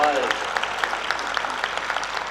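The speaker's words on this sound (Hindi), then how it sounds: "ये हमारी भाभियां तालियां बजा रही हैं" Steady applause from an audience at a Hindi poetry gathering at a university, dense clapping throughout with occasional sharper claps standing out.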